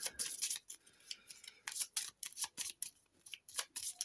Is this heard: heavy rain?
no